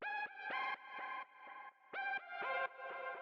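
A sparse synth lead from a minimal techno track plays short, bright, tonal stabs in a rhythmic pattern with slight pitch bends, fairly quiet and alone without voices.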